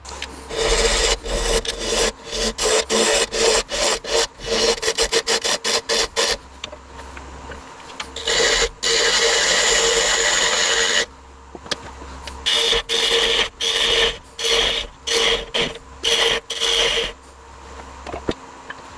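Wood being turned on a lathe to cut a recess in the base of a cake stand made from oak, cherry and ash offcuts, with loud bursts of rasping, scraping cuts that alternate with steadier stretches, close and without talk.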